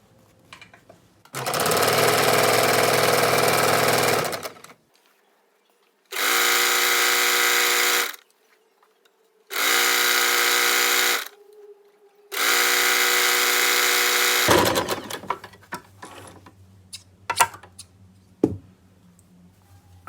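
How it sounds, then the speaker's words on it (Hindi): A sewing machine stitches a folded fabric strip for palazzo trousers in four loud bursts of steady whirring, separated by short pauses and followed by faint handling clicks and rustling. "इसमें एक पैर की सिलाई लगा लेंगे"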